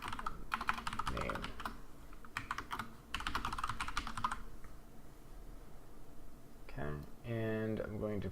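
Fast clattering keystrokes on a computer keyboard while C++ code is entered, coming in two dense bursts, followed by someone speaking at the end.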